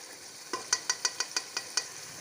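Masala for Sindhi chicken fries in a pan, with a soft background sizzle and about eight quick, rhythmic scraping strokes of a spoon stirring it.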